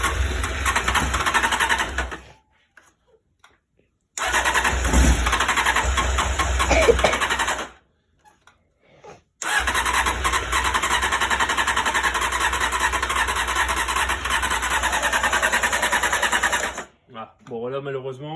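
A Honda CBR motorcycle engine fires up without the starter and runs in loud, rough bursts separated by sudden silences, close by, with someone speaking over parts of it.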